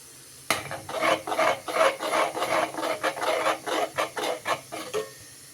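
A spoon scrapes and stirs thick wheat halwa in a pan after the sugar goes in, making about a dozen close, rhythmic rasping strokes in a steady back-and-forth pattern with no talk.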